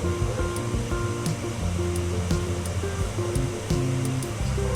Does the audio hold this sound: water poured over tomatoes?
yes